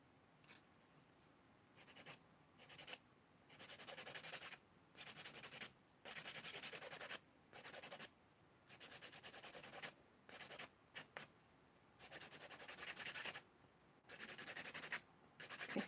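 A nail file rasps across fingernails in short, close strokes, bursts of scratchy filing separated by brief quiet pauses, with no talking.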